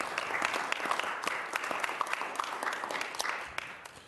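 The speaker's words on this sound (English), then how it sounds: "give them a round of applause" Audience applause at a city council meeting, a quiet but steady patter of many hands clapping with individual claps audible, fading slightly at the end.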